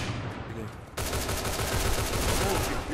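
Rapid bursts of gunfire in the game League of Legends crackle continuously, loud and dense, with a sudden louder volley starting partway through.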